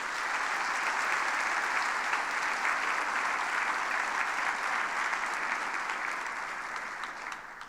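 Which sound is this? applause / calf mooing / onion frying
applause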